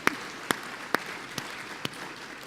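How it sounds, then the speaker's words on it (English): Scattered applause from a small audience greeting panelists at a business panel discussion, a handful of distinct claps spaced about half a second apart, light and moderately distant. "We can give them a round of applause, sure."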